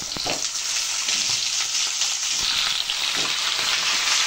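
Diced malabar spinach, pumpkin, ridge gourd and potato tipped into hot garlic-tempered oil, setting off a loud, dense, continuous sizzle close by, with no talking.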